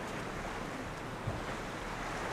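Ocean waves washing around a wooden platform out on the water at an island resort in Kiribati, a steady rushing wash mixed with wind buffeting the microphone, with no voices.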